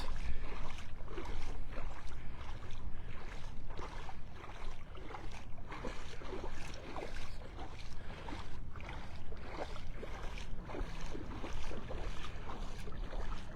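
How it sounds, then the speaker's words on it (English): Breezy wind on a beach at Delnor-Wiggins in Naples, Florida, steady rushing gusts buffeting the microphone with a soft surf-like wash beneath, continuous and moderately loud. "it's breezy here when you get out from behind the cover of all the trees"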